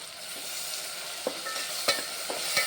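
Onion and ground tomato paste with turmeric sautéing in a pan for an okra kara kuzhambu, a soft steady sizzle with intermittent spoon scrapes and light knocks, fairly quiet and close, with no voices.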